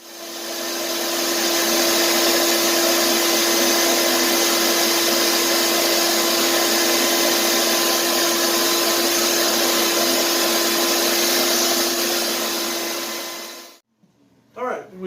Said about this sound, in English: I'm going to go ahead and take the shop vac